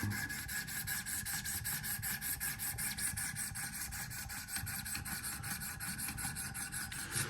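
A Spyderco Yojumbo wharncliffe blade being sharpened on an 800 grit Wicked Edge stone, producing a steady, continuous close-up rasping and rubbing with rapid repeated strokes and no talking.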